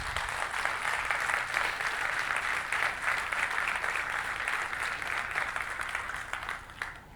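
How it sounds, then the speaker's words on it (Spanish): A church congregation applauding God during a sermon, steady sustained clapping from a large crowd that holds evenly throughout and fades slightly at the very end, with no voices over it. "Dale un fuerte aplauso a Dios."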